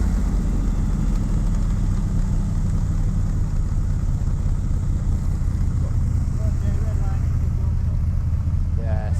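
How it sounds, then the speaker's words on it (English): Miami blue Cobra sports car with a V8 running at an outdoor supercar show, a low steady engine rumble under crowd noise and people talking nearby. "And we've got a Cobra here making a bit of noise."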